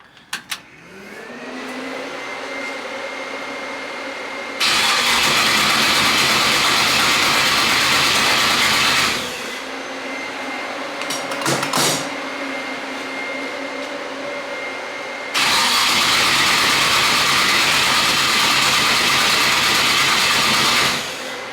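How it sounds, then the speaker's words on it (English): Race car on new spark plugs starting and idling, a loud steady engine drone with two stretches of much harsher, louder roar as it revs, then settling back to idle between them. "I just haven't heard engine noises in a while, and I want to hear race car sound"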